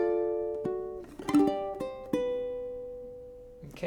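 A ukulele strums Waltzing Matilda in a few separate, ringing strums that come further apart as the tempo slows into bar 4, each one decaying before the next.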